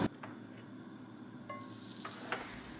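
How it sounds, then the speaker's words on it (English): Butter sizzles in a wide pan for an artichoke spring pilaf, a quiet steady crackle with a few stirring scrapes. "so I'm going to add butter to my artichoke rice, spring pilaf"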